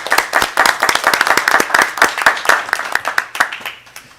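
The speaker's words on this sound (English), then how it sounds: "applause is nice" Scattered applause from a small audience at a school board meeting, with distinct individual hand claps in an irregular patter that thins toward the end, close and fairly clear in a quiet room.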